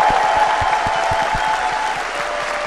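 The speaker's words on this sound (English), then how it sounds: "could we just have a little round of applause for these guys?" A crowd applauds at TennoCon 2018, a Warframe convention, with steady clapping throughout, fairly loud and dense, with a few sharper individual claps standing out.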